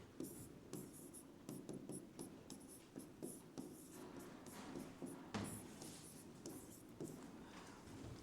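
Chalk or marker strokes on a board during a maths class make quick scratchy taps and swishes in bursts, close and fairly quiet, over faint room noise.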